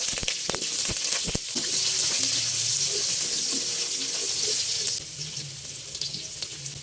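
Carrot and potato pieces frying in oil in a pan, a steady bright sizzle running throughout with a few sharp pops early on, loud and close with no talking.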